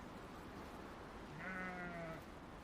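A freshly sheared sheep bleats once, a clear wavering call rising over a dense, noisy farmyard background.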